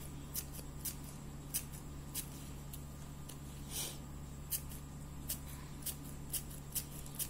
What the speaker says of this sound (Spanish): Y así vamos a ir cortando, cortando.